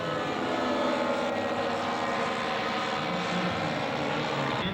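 Steady droning propeller engine noise from a scale model B-17 bomber flying at an air show, with one landing gear down, heard continuously at moderate distance without a break.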